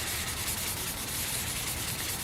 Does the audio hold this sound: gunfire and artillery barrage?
no